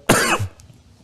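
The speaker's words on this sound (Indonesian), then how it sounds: "saya masih ada batuk-batuk" One sharp, close cough, then quiet.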